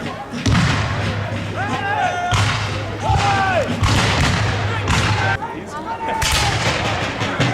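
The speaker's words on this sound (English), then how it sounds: "Has ordered his cannon to fire into the cavalry." Cannon booms and thuds roll through a reenactment of the Battle of Guilford Courthouse, several loud heavy blasts spaced a second or two apart amid crowd noise and voices.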